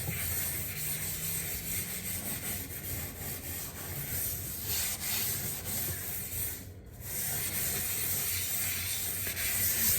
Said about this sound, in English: I'm gonna take this like metal, like wool thing and just scrub.